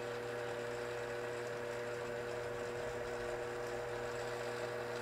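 A LinuxCNC PWM-controlled spindle motor runs at about 500 RPM, making a faint, steady hum with constant tonal whine and no change in pitch or rhythm for the whole stretch.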